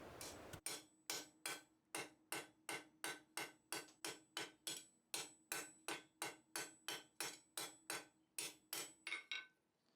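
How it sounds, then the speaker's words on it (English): Steady hammer blows forge a steel bar into a centre bit, landing about twice a second in a regular rhythm of close, ringing strikes for nearly ten seconds. "So I'm also rotating the bar with every hit, so that tends to even out the hammering along the end."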